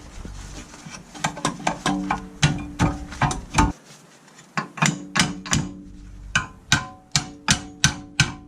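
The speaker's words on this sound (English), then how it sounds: "You can use metal or rubber hammer." Metal hammer blows strike a brake caliper on the rear disc of a VW Passat B7, about two dozen sharp ringing knocks in a steady irregular rhythm, close and loud, with a brief quiet gap midway.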